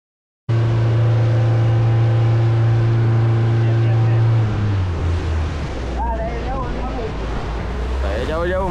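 A boat, one of three travelling together, runs over the sea with a steady loud engine drone whose pitch drops midway. Rushing water and wind fill the background, with voices shouting faintly near the end.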